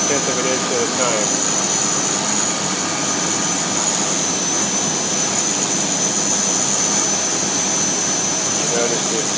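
A CNC machine mills a 3-inch square about a tenth of an inch per pass, giving a loud, steady, continuous machining whine and roar that fills the whole stretch without a break.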